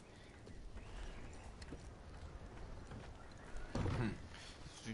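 Horse in the video game Red Dead Redemption 2 giving a loud snorting whinny near the end, after a few seconds of faint hoof and ambient rustle against steady outdoor noise.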